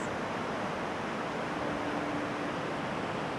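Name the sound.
river rushing through a limestone gorge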